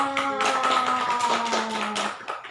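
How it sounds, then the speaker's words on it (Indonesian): Students in a group counseling session clap, quick close hand claps mixed with a held tonal voice or hum running underneath, fading toward the end. "Tepuk tangan."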